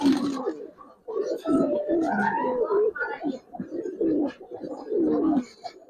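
A male Giribaz pigeon coos over and over in close, rhythmic bursts, each throaty call rising and falling with short pauses between.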